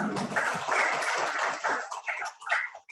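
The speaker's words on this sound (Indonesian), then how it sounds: "Boleh beri tepuk tangan Pak Joko" An audience at a book launch in a school library claps in a brief round of applause. It starts full, then thins out into scattered claps and fades fairly quickly.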